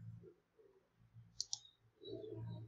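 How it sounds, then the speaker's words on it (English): Two quick, sharp computer mouse clicks close together in a quiet room during SPSS software work, with a low background hum around them. "just click analyze, okay, and then click frequency"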